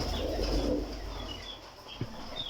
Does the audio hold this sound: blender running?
no